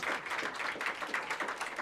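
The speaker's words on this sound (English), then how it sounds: "So to Thelma and William, I want to give you a round of applause for raising this incredible individual." Audience at a New York State lieutenant governor swearing-in ceremony applauding steadily, a dense round of clapping that holds at moderate level throughout with no talk over it.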